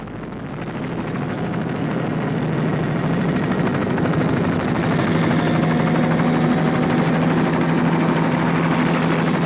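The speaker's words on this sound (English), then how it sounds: "In close attendance was the air rescue helicopter of the National Road Safety Council" An air rescue helicopter of the National Road Safety Council attends a 1985 rally, its rotor and engine droning loud and steady, swelling slightly at first and then holding constant.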